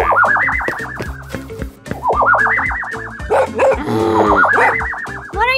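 A dog yips, barks and whimpers in a rapid series of rising calls over a musical backing track, loud and close, with repeated bursts through the whole stretch.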